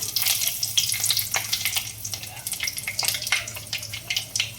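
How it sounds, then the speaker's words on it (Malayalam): Dried red chilies dropped into hot oil with popping mustard seeds for a prawn curry, crackling and sizzling loudly and close, with busy bright spatters throughout. "പൊട്ടുമ്പത്തേന് വറ്റൽമുളക് ഇട്ട് കൊടുക്കാം"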